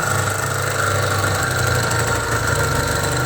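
The motor of a Mollar T800 airless paint sprayer runs with a steady, loud, close mechanical hum and vibration, with no voices.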